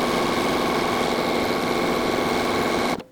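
A sewing machine zigzag-stitches along the flat edge of lace with contrast thread, a steady, close, even whirring motor hum that runs without a break and then cuts off abruptly right at the end.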